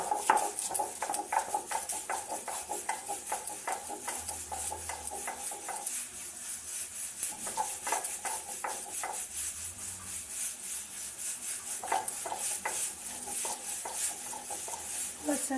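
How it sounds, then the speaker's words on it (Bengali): Mustard seeds being ground with a splash of water on a stone grinder, a steady rhythmic scraping and rubbing close by, with repeated gritty strokes that pause briefly now and then. "এবার সর্ষেটা ঝটপট করে বেটে নেব একবারই নিয়ে নিলাম একটু জল দেবো"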